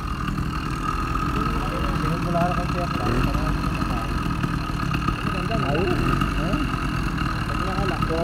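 A small engine on a mountain bike converted into a motorbike runs steadily and loudly throughout, with a constant mechanical drone and voices talking over it.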